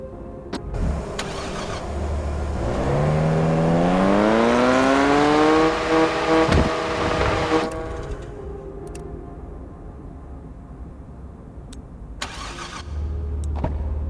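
BMW M4 F82 Competition in Car Parking Multiplayer 2, stock-tuned, revving up in a rising, loud engine tone that climbs steadily for several seconds, then drops back to a steadier drone with brief clicks.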